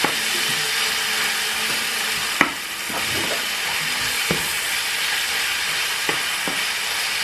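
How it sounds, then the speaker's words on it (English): Meat sizzles in a pan over high flame with a constant loud frying hiss, broken by a few scraping stirs and knocks of a utensil against the pan. "So you just stir as you go along so that the meat doesn't lump up on you and everything cooks same time."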